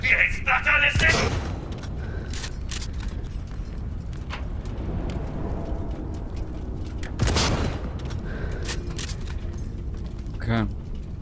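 Explosions and gunfire in the video game Cyberpunk 2077: scattered booms and bursts of shots over a steady rumble, with a voice talking over the action.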